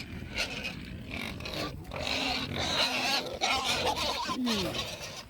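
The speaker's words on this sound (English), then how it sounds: "As you can hear, I'm out here at the pig pen" Pigs grunt and squeal in short bursts at close range in a pig pen, with scuffling and farmyard noise between the calls.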